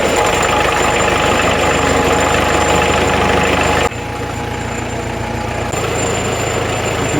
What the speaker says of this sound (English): Yeah, it's definitely a diesel.